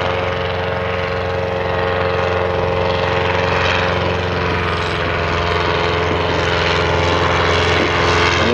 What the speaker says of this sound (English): One of the first British military aeroplanes, the Bristol box kite.